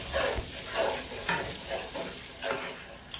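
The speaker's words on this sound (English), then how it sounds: "I'm going to give this a stir" Onions and garlic powder sizzle in a pan while being stirred, with soft scraping strokes recurring every half second or so over a steady frying hiss, close and moderately loud.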